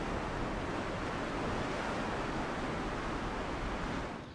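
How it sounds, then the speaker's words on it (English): Atlantic waves smash against Welsh coastal cliffs in a steady, loud roar of surf with wind, a continuous broadband wash that holds for several seconds before easing slightly at the end. "Waves driven across the Atlantic smash against the cliffs, continually wearing them away."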